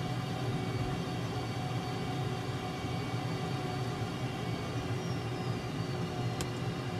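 Steady, loud broadband roar of an F/A-18 fighter jet coming in to land in Microsoft Flight Simulator at RAAF Base Amberley, a continuous engine and wind drone with a low rumble and no voices.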